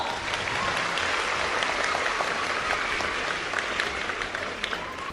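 Steady, sustained clapping from an audience at a public gathering honouring a legislator, a dense even wash of many hands at moderate volume with no pause.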